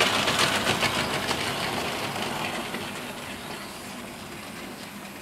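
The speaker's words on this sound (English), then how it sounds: "She's slipping a little bit." A locomotive propelling its train at moderate speed, with a steady loud rumbling roar, hissing wheel-on-rail noise and faint rhythmic clatter, fading slightly over several seconds with no talking.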